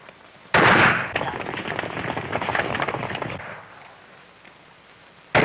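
A dense burst of crackling gunfire from a 1935 western film erupts suddenly and rattles on for a few seconds before fading out.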